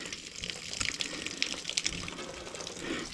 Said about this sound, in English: Look at the water coming down my bloody arm, now it's going down my leg as well.